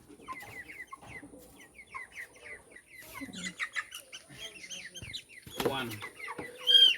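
Several chickens cluck and squawk close by in a sequence of irregular bursts that grow louder toward the end, with a person speaking among them.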